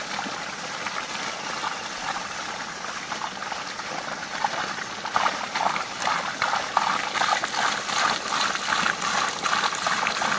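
Water pours steadily from a pipe into a fish pond on a farm, a continuous rushing trickle that grows slightly louder and more splashy partway through.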